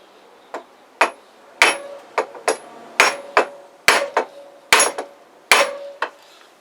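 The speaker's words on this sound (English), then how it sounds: "And then hammer, chunk of wood" Repeated hammer blows on a chunk of wood pressed against a Kawasaki GPZ500S motorcycle part, a dozen sharp close knocks in uneven pairs, each ringing briefly, with no talking.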